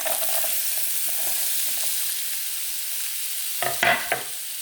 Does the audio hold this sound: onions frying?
yes